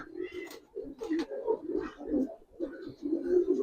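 Giribaz and coloured pigeons coo nearby in a fairly continuous string of low, murmuring, overlapping calls, with no talking.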